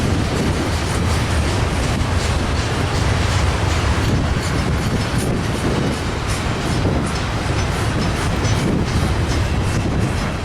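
A Norfolk Southern freight train rumbles past at close range near Atlanta, a loud continuous roar with rhythmic wheel clatter and no voices.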